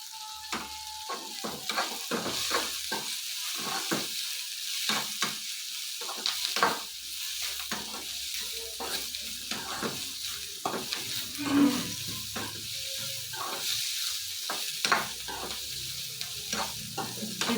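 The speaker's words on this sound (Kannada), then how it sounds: "ಇದು ಚೆನ್ನಾಗಿ ಹುರ್ಕೊಂಡ್ರೆ ತುಂಬ ಟೇಸ್ಟ್ ಚೆನ್ನಾಗಿರುತ್ತೆ ನೋಡಿ ಗೋಲ್ಡನ್ ಬ್ರೌನ್ ಬರೋ ತನಕ" Cauliflower green curry masala roasting in a pan until golden brown, with a continuous sizzle broken by frequent scraping and stirring strokes of a spatula against the pan, close and fairly loud, with no talking.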